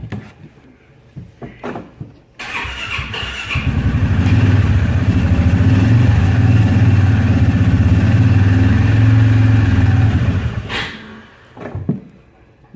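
A 2016 Polaris midsize Ranger engine in cold weather: a few clicks and a brief crank, then the engine fires and runs with a loud steady drone for several seconds before shutting off, followed by faint clicks.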